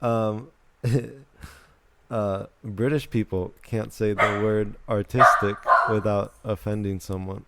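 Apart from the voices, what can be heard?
dog barking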